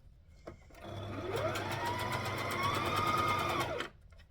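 A sewing machine runs a zigzag seam on stretchy fabric for a rash top, a steady whirring stitch held for about three seconds that then stops abruptly, close and alone.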